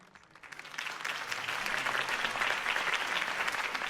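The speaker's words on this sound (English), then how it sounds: "If only Mr. Wayne, my campaign's largest backer, could have heard that applause" Crowd applause after a campaign speech in the Batman Telltale video game, a swelling roar of clapping that builds over the first second and stays full and even, no voices over it.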